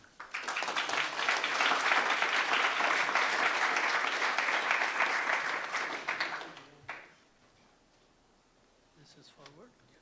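Audience applause fills a lecture hall at a speaker's welcome, a dense steady clapping that swells for several seconds, then tapers quickly and fades into near silence with faint rustling.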